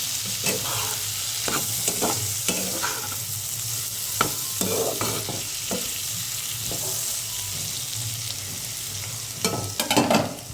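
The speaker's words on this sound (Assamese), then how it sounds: "এইফালে আলু আৰু ফুলকবিৰ পাত ভাজি আছোঁ" Potatoes and cauliflower leaves fry in a pan with a steady, close sizzle, broken by repeated scraping and stirring knocks at an irregular pace; no one talks.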